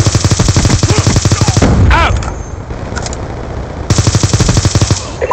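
Rapid automatic gunfire from the Black Ops II video game comes in loud, close bursts, with a pause between bursts filled by a whooshing effect and softer in-game sounds.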